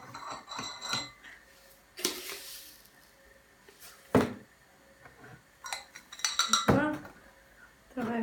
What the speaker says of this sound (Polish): Dodajemy 4-5 łyżeczek kwasku cytrynowego.